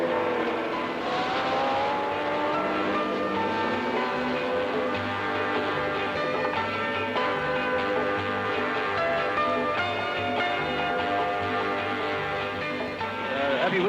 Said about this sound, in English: jockeying a Formula One through a rainstorm at well over 125 miles an hour is clearly a test for titans